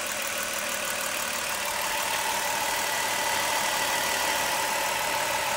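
A van engine idles quietly and evenly after a serpentine belt replacement, a soft steady hum with no voices.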